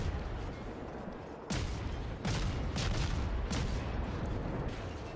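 Naval guns firing in the World of Warships video game: several sharp booming blasts over a steady rumbling background, with shots spaced a second or so apart.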